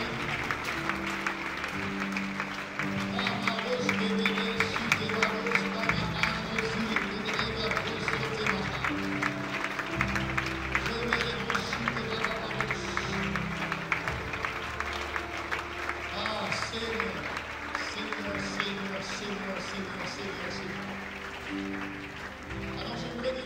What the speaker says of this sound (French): Acclame le Seigneur fort. Les croyants acclament le Seigneur.